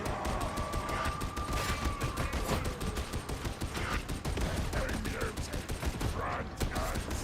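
Rapid covering gunfire in a shooter video game, dense bursts of shots crackling in a steady rhythm, fairly loud and continuous with little pause, a faint voice occasionally underneath.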